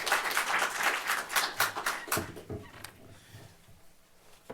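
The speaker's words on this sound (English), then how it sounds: "But please give a welcome and a round of applause to Jim Locher" An audience claps to welcome a speaker at a national security talk. The applause starts full and lively, then thins to scattered claps and fades out over a few seconds.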